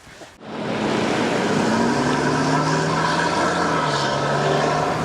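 A protected mobility vehicle drives along with a loud, steady broadband engine and road roar, joined by a droning low tone that shifts slightly in pitch. It starts abruptly after a short thump and then holds constant.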